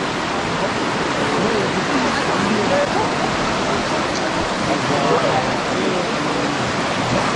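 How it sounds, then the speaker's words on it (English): The Nsele River flowing beneath a bridge in a private park in Kinshasa, heard as a steady, full rush of moving water that stays broad and even throughout, with no voices over it. "So this river right here is called the Nsele River."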